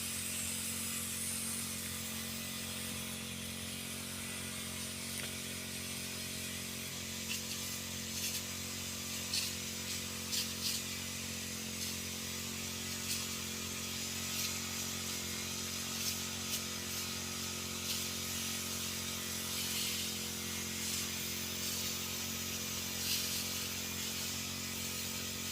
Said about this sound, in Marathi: त्यासाठी फवारणी करतो आहे